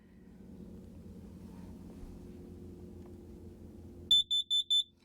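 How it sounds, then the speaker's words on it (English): A quiet low hum inside an RV, then three loud, piercing high-pitched beeps from a smoke alarm test in quick succession near the end. "we can press the button to make a really loud noise"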